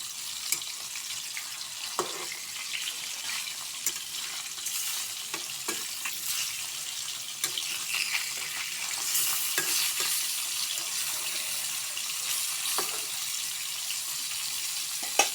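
Small rohu fish sizzle steadily in hot white oil in a wok, a loud close crackling hiss with intermittent clicks and stirring scrapes, no voices.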